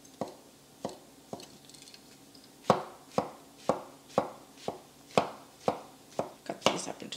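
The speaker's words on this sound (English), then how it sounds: "Just chopping up the stalk first," A knife chops mushroom stalks on a cutting board, about a dozen crisp, evenly spaced strikes close by.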